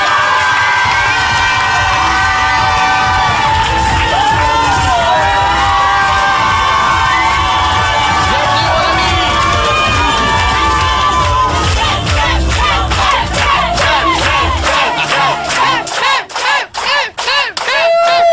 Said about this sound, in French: Faites du bruit pour Kev Adams et l'équipe de Goldsterdam.